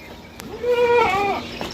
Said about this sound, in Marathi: आणि या ठिकाणी एक बोकड आहे मित्रांनो ह्या दोन शेळ्या आहेत आणि हा एक बोकड आहे